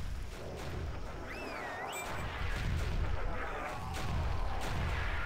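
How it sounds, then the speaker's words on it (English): Airstrikes and explosions pound a battlefield in the zombie game Stubbs the Zombie, a dense, continuous roar of blasts and rumbling impacts that swells in waves over several seconds with no pauses. "there's airstrikes and everything"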